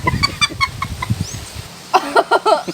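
A person imitates a chicken with a rapid run of clucks, a short pause, then a second burst of higher, squawking clucks, close and loud.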